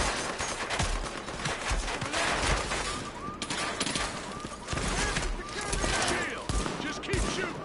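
Rapid, dense gunfire from the shooter game Tom Clancy's The Division, sidearm fire crackling in continuous bursts for several seconds over a busy, loud battle backdrop.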